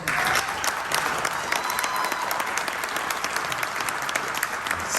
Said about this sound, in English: Give yourselves a round, the round of applause that you deserve